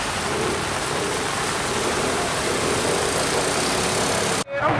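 Heavy rain pours steadily over the flooded streets of Douala, a dense continuous hiss with a low rumble of idling traffic beneath, cutting off abruptly near the end.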